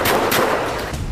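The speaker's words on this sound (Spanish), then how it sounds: "Los propios extorsionadores se graban disparando" Several loud, sharp gunshots fired at a house by extortionists in San Martín de Porres, cracking in quick succession within about a second, with no talking.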